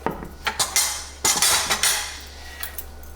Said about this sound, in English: I'm going to cut the heat and stir in our cheese.